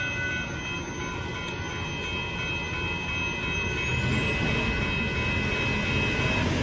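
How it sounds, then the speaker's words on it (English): A northbound Amtrak Texas Eagle passenger train passes with a steady, loud rumble and a sustained tonal hum that swells slightly toward the end, with no voices. "There goes Amtrak"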